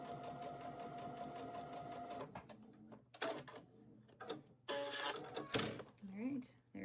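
A sewing machine stitches pillow pieces in a quick, even run of a couple of seconds, then stops and gives way to clicks, knocks and handling noises nearby.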